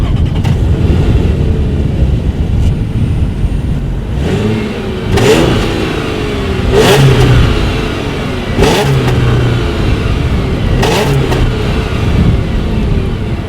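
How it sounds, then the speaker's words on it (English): Exhaust of a 2018 Audi A7 revving, several sharp throttle blips rising and falling over a steady idle, loud and close. "here is that exhaust clip"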